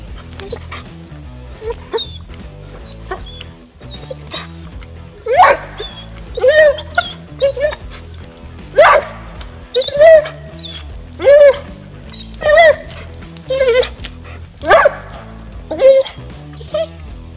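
A stressed dog whimpers and yips, then lets out a run of sharp, evenly spaced barks and whines growing louder toward the middle, close and alone.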